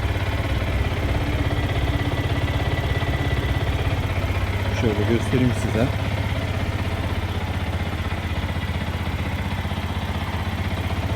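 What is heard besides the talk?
Yamaha YZF R125 2015 motorcycle idling, original exhaust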